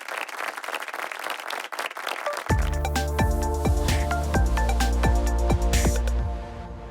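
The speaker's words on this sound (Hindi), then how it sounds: "जोरदार तालियों से स्वागत करें हमारे तराना जीसस टीम का" An audience at a singing reality show applauds to welcome the Tarana Jesus team, with dense clapping for a couple of seconds before loud music with drums starts over it.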